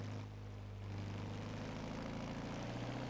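A 2014 Mazda Lola B12/80 prototype race car at Sebring in a racing game, its engine droning in a loud, steady high-revving tone at full throttle with a slight rise after the first second.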